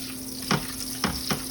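Oil heating in a pan to fry enchiladas, a steady sizzling hiss with a few soft clinks of utensils against the pan, close and moderately loud with no talking.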